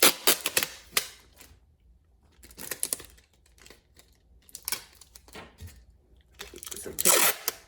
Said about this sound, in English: So tape the back off, and this is the hand tear tape from the post office